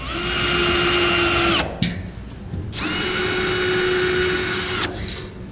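A power drill whirs loudly in two long bursts while marking hole locations in a Ford F-250/F-350 truck bed, pitch steady while running, with a short pause and a faint spin-down between.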